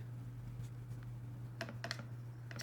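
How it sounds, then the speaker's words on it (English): Keys on a computer keyboard are tapped in a few quick, soft bursts over a low steady hum, close and quiet, with no one speaking. "sitting down in a chair at their keyboard in front of a bright LED screen, tickety-typing away and clicking that mouse"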